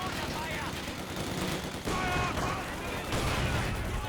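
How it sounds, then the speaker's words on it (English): Machine guns in a Company of Heroes 2 three-versus-three match at a station: steady, dense gunfire and battle clatter throughout, with a louder surge near the end. "Engineers getting encircled by the machine guns there."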